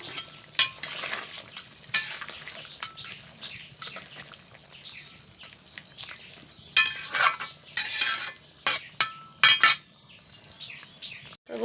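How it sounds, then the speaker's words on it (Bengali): Fried rohu fish goes into boiling curry gravy with potato and pointed gourd in a village kitchen, bringing close bursts of sizzling and bubbling with stirring and utensil clatter on the pot, and no voices. "আমি এখন এই ভেজে রাখা মাছগুলো দিয়ে দিচ্ছি।"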